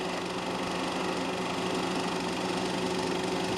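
Corvettes and a white Porsche Carrera run in a race, heard as a continuous, fairly loud engine drone with a steady buzzing tone throughout.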